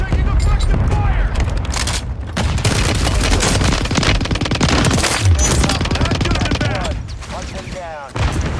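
Automatic gunfire and explosions from a Warzone match, loud, dense and continuous bursts over the full stretch, with a voice talking over the shooting.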